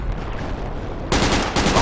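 Gunfire in the military shooter Project Reality, set in a jungle: a steady low rumble of distant shots, then from about the midpoint a louder, dense burst of rapid fire that nearly continues to the end.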